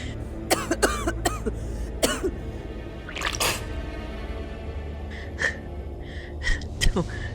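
Several short, harsh coughs come in bursts close by, with gasping breaths and quiet drips in between.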